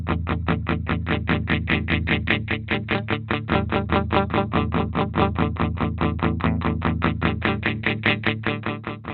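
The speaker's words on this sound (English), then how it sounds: "get even more of it in a darker wah-wah sound" Electric guitar through a Dunlop Cry Baby JC95 Jerry Cantrell signature wah pedal set to a darker voice, with a steady stream of loud, evenly spaced distorted picked notes that each swell through the filter across the whole passage, no talking.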